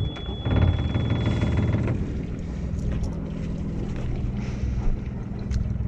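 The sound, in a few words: sailboat engine started and warming up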